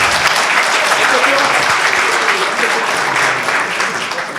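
Sustained, dense audience applause fills the hall after a talk at a panel on entrepreneurship in Africa, loud and steady throughout, tapering slightly at the end.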